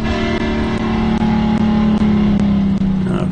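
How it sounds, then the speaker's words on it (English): A drag race car's engine holds a high, steady roar through a burnout, loud and close, with brief dips in the buzzing tone. "This is a burnout."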